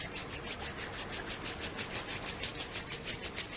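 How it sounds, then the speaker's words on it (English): Palms rubbed briskly together to build warmth, a fast steady back-and-forth swishing of about fifteen even strokes, loud and very close, with no other sound. "you can rub your hands together to generate heat in your palms"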